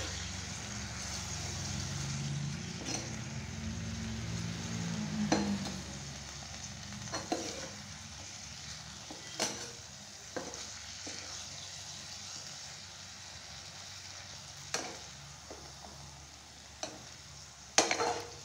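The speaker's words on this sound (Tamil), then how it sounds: "அதை இது கூட சேர்த்து எண்ணெயில் லைட்டாக வதக்கிக்கலாம்." Cauliflower florets, washed after soaking in hot water with turmeric, sauté lightly in oil, a soft steady sizzle broken by occasional sharp spatula scrapes and clicks, close and moderately quiet.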